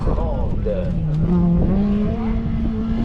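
A BMW M3 races through a slalom course at the 2022 Slalom de Chamblon, its engine note rising and falling with squealing tires, heard at a distance under a commentator's voice.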